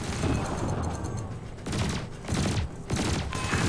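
Ship cannon and laser fire in the space game Elite Dangerous, several bursts of rapid shots and booms with short gaps between them, loud and close.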